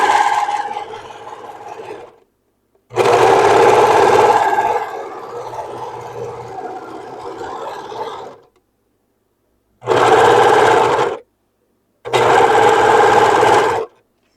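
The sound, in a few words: sewing machine stitching a seam on a halter dress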